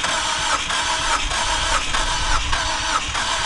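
A Chrysler PT Cruiser engine cranking and catching, with rhythmic pulsing churn and mid-range mechanical roar recorded close, no talk.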